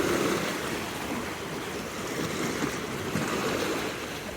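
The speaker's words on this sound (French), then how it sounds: "le fracas des vagues" Waves breaking on a shore, a steady broad wash of surf with no distinct individual crashes, moderately loud and continuous with no voices over it.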